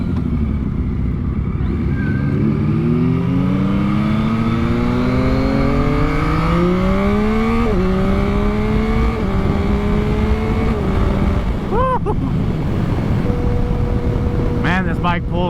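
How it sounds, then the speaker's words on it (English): Yamaha MT-09 motorcycle pulling hard through the gears, engine note rising repeatedly with shifts between pulls, loud and close from the rider's position amid wind noise. "Man, this bike pulls so hard, it's crazy."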